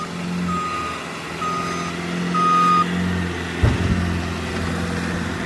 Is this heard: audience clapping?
no